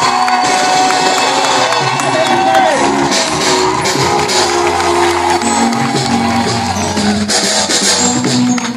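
Church congregation at a worship service cheering and shouting acclaim together, a dense continuous crowd roar with whoops and calls, loud and sustained throughout.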